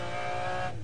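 A McLaren F1 GTR race car at Le Mans screams at high revs under hard acceleration, a loud, steady engine whine that drops sharply near the end as it shifts up a gear.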